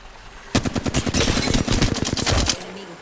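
Rapid automatic gunfire from a shooter video game, a dense loud burst of evenly spaced shots lasting about two seconds, then cutting off abruptly.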